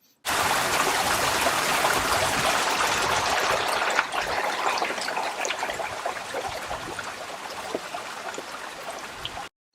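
Water runs continuously along an irrigation channel in Peru, a full, steady rushing and trickling that starts abruptly and keeps going alone, close by and fairly loud.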